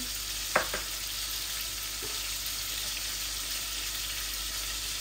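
Spices (bay leaf, cumin, fenugreek) tempering in hot oil in a frying pan, a steady bright sizzle with a brief crackling pop near the start, close and unaccompanied by talk.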